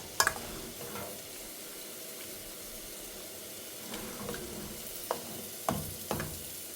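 A spoon stirs a mix of beaten curd and rice in a pan, making faint soft scraping broken by a few sharp clinks against the pan, with no talking.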